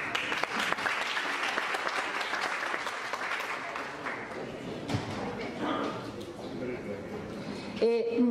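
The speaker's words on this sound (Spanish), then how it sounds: "Recibamos con un fuerte aplauso a Yulisa" A crowd at a human rights training course gives a loud, sustained round of applause that gradually thins out, with voices and a few sharp knocks near the end.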